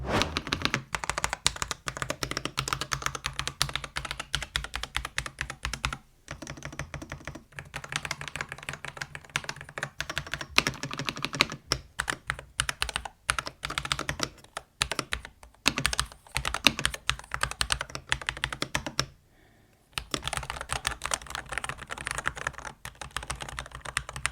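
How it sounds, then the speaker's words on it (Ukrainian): Typing on an Ajazz AKP815 mechanical keyboard, with soft, springy keys giving dense, rapid clacks in continuous bursts and a couple of brief pauses. The sound is close and alone. "Можемо одразу послухати, як звучить дана клавіатура."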